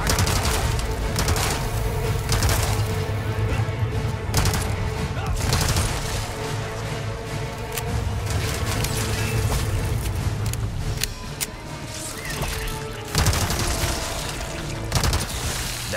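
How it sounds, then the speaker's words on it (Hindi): Rapid helicopter gunfire in the video game Resident Evil 4 Remake, a loud sustained barrage of bursts and booms that runs with little pause over a continuous rotor-like rumble. "इसकी गोलियां मुझे भी लग रही है"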